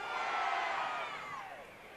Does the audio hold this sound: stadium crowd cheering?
yes